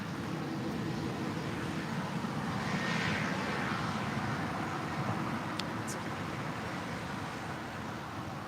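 Lufthansa airliner at LAX, a steady broad engine roar holding at moderate level throughout, with a faint passing whine near the middle.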